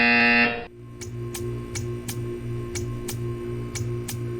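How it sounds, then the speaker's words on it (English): A loud, harsh electronic buzzer from the Portal 2 video game blares for about half a second and cuts off abruptly, followed by a steady, evenly spaced ticking over a low mechanical hum. "When you hear the buzzer, stare at the art."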